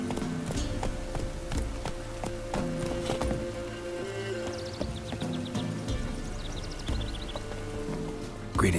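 Roach the horse galloping in The Witcher 3 video game, a rapid, steady run of close hoofbeats clip-clopping against a busy game soundscape with faint chimes.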